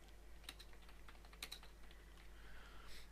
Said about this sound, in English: just type some stuff.